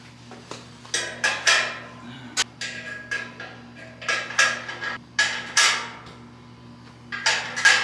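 Metal spatula hangers fitted onto an Amazon Basics griddle, a series of close metallic clinks, taps and scraping clatters in irregular bursts over a low steady hum.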